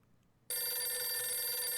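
A telephone in the video game Last Window starts ringing abruptly after a brief quiet moment, a bright, steady electronic bell tone that holds at constant loudness.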